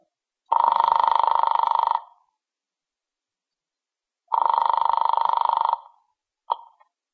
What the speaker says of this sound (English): He eventually led me to the phone, and I dialed my apartment.